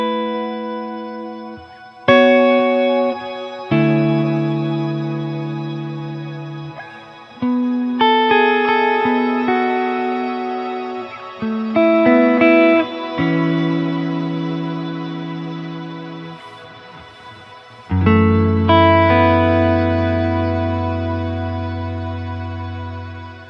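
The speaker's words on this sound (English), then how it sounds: "Very cool reverb, and it's so cool that we've now got access to these tones in the Helix" Guitar played through a Line 6 Helix shimmer reverb, with sustained chords and notes blooming into a bright, octave-up wash that rings on and swells as each new chord is struck, alone with no talk.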